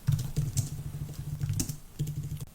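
Keys clatter on a computer keyboard as a SQL query is typed, in a steady run of close, moderately loud taps.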